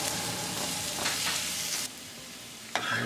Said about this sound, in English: I'll add the cilantro, I'm going to mix it